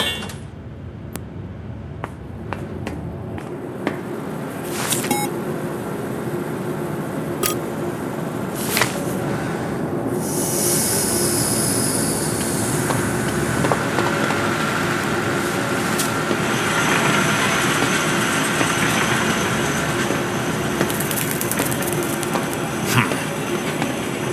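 A train rolls through a zoo in the horror game Zoochosis, a steady mechanical rumble with rattling, clanking wagon noises and occasional sharp metallic clicks that continue throughout.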